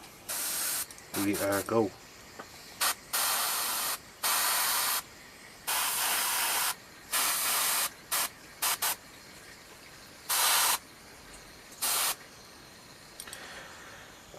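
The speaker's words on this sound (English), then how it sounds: "I have Vallejo Royal Purple in the airbrush, and PSI is set to 20 PSI, so little test spray." Repeated short bursts of an airbrush test-spraying Vallejo Royal Purple paint at 20 PSI, each hiss lasting about a second with brief pauses between, close and loud, with a few spoken words near the start.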